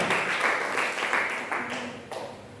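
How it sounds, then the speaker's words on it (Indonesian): A church congregation breaks into applause, a dense wash of many hands clapping together that tapers off gradually over a couple of seconds. "Tepuk tangan saudara-saudara."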